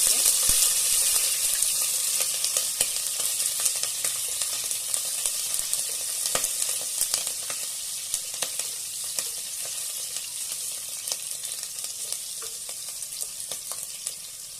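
Kasuri methi and green chillies crackle and sizzle in hot tempering oil over a low flame, a steady close hiss with scattered sharp pops that slowly eases off.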